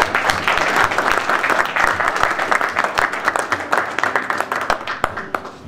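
An audience applauds at a talk on Venezuela, with loud sustained clapping that gradually thins into scattered individual claps toward the end.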